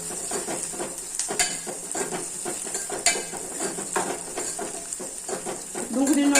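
Chopped chili sautéed with browning onions in oil in a pan: a soft continuous sizzle broken by repeated scraping and clinking strokes of a spoon, close and steady.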